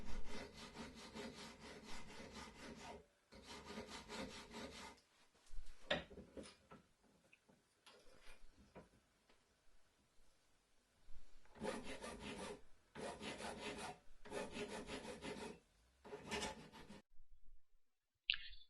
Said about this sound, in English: Now file round the outside to a smoothish finish.